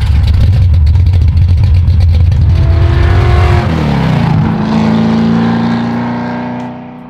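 A 1966 Shelby GT350 replica's engine running loud and close, a deep throaty rumble that settles into a lower, steadier idle tone before fading slightly at the end.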